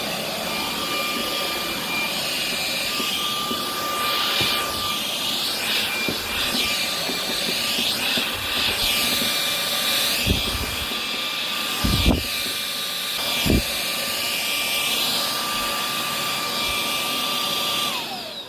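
A Kogan Z10/C10 cordless stick vacuum whirs steadily over carpet, a high whine with broadband suction hiss throughout, a few brief thumps and knocks as it is pushed along, close and fairly loud with no talk.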